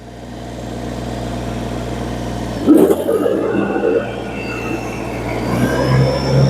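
Kubota BX2370 compact tractor engine idling steadily, then rising in pitch as the throttle is raised a little, a close, continuous mechanical drone with a brief louder rumble midway.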